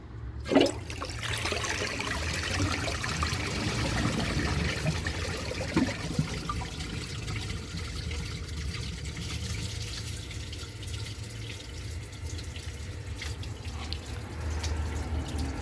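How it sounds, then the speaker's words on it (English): A 2005 Briggs Abingdon toilet flushes while trying to clear a dish towel, a strong close rush of swirling, draining water that runs steadily through the clip and then eases into a softer refill trickle. "see if it can flush this dish towel"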